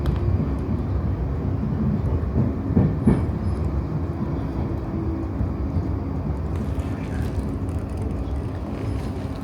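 Steady onboard rumble of a Class 458 electric train in motion, continuous wheel and rail roar with faint clickety-clack, close and constant throughout with no talking.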